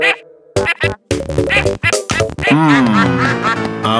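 A cartoon duck in a children's animated series quacks repeatedly and loudly, with short rhythmic calls at first, then a longer drawn-out quacking run, close up and alone.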